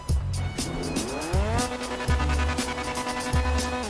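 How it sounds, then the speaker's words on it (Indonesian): A car drifting in a mobile racing video game: a revving engine whose pitch climbs in rising sweeps, with tire squeal and repeated thumping gear or collision effects, loud and close. "Kalau hold dia jadi drift."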